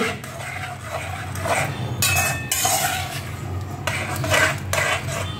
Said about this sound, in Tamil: இது நல்லா கிண்டு